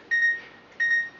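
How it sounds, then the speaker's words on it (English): An electronic timer alarm marks the end of a leak check on a Gastec pump, giving two short, clear high-pitched beeps in quick succession, close and alone. "stop my alarm there."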